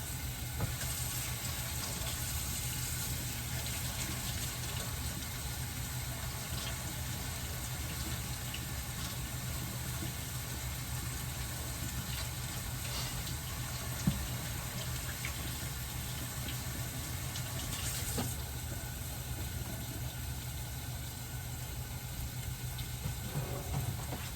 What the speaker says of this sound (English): So, let me wash this off.